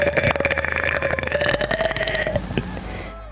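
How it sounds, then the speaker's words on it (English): A long, loud, croaky burp from a VTuber, rumbling steadily for about two and a half seconds before trailing off into quiet. "Holy, that was a burp."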